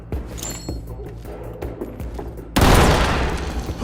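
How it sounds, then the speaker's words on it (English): A thrown grenade explodes in the tactical shooter Ready or Not: a sudden, loud, close blast at the end, with a roaring broadband tail that follows scattered gunfire and clatter. "you can always throw a grenade"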